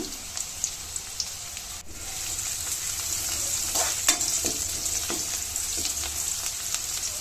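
Turmeric sizzles as it is fried and stirred in a pan for a Kannada-style capsicum and green peas gravy: a steady close frying hiss runs throughout, with soft repeated scrapes of stirring.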